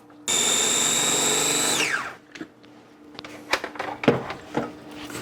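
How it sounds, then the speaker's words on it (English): Electric kitchen mixer creaming butter with a brown sweetener replacement for protein chocolate chip cookies: a loud steady whine for about a second and a half, winding down, then scattered scraping and clattering of the bowl. "I want to cream the butter with the sweetener."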